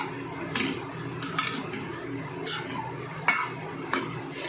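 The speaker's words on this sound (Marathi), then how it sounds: "आता गॅस फास्ट करायचं आहे आणि सतत ढवळत राहायचं आहे" Milk for coconut barfi stirred nonstop in a pan over a high flame, with a spoon scraping and clinking against the metal in a loose, repeated rhythm over a low background hum, close by and without speech.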